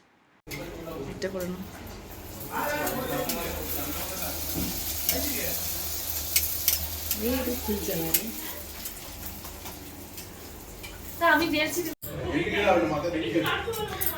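Chicken with onions and potatoes sizzles in a pan while being stirred during an outdoor picnic cook-up, a continuous frying hiss with scraping stir strokes under background chatter and laughter.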